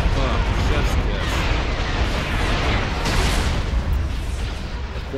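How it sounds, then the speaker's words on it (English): Booming explosions roll through a Star Wars video game battle, a dense, loud, continuous rumble of blasts and bursts with a voice talking over the din. "The explosions in this are just fun."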